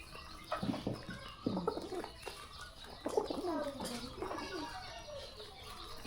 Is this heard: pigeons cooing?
yes